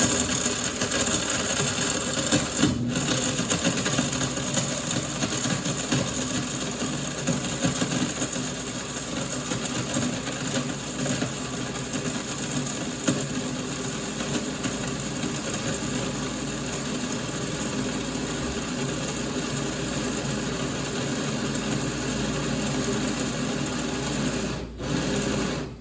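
A coffee grinder whirs continuously as it grinds carob, a steady buzzing mechanical drone that holds evenly for a long stretch with only a couple of brief dips.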